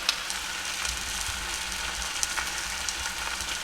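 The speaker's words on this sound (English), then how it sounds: "the oil's hot enough, so I'm gonna get these tofus in there" Pieces of tofu frying in hot oil, a dense steady sizzle with scattered crackles and pops, close and continuous with no voices.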